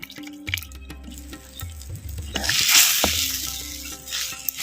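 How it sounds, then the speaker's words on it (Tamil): A tamarind curry with masala bubbles and sizzles in a pan, soft popping and spluttering rising and falling, over a steady low hum with faint background sounds. "நம்ம சேர்த்த புளி தண்ணியும் மசாலாவும் நல்லா கொதிச்சு நல்லா வத்தட்டும்"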